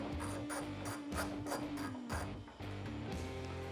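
Socket ratchet clicking rapidly as it loosens a bolt on a Toyota Tacoma's ditch light bracket mount near the hood, several bursts of pawl ratcheting with brief pauses, close and fairly loud, no talking.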